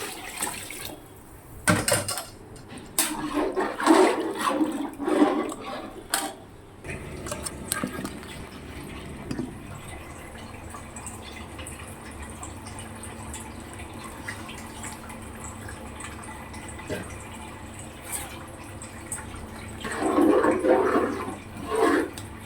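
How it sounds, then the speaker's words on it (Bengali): Water is poured into a cooking pan of sautéed mixture for a sweet offering dish, making a splashing gush for several seconds, followed by quieter trickling and kitchen sounds. "এবার আমি জল দিয়ে দিচ্ছি।"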